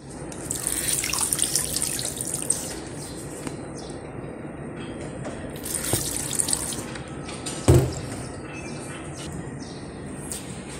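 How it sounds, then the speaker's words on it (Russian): Steady rain falls outdoors in a flooded yard, a dense even patter with water splashing and dripping throughout, one sharper splash or knock standing out briefly near the end. "видите, дождь идет"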